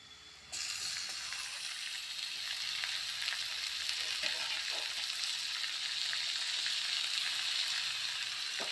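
Finely chopped tomatoes hit a hot pan for prawn thokku and sizzle steadily, a loud, even frying hiss that starts abruptly and holds throughout with faint stirring underneath.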